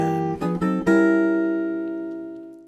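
Jazz guitar comps rootless voicing chords with chromatic movement, a few quick stabbed chords followed by one ringing chord that sustains and slowly decays, close and clean with no talking.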